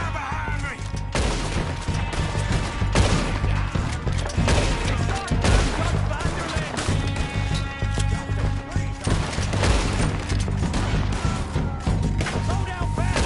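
Dense gunfire from an outlaw shootout against the O'Driscolls in Red Dead Redemption 2, with rapid overlapping shots, heavy impacts and crashes going on nonstop and loud, while voices shout over the fight.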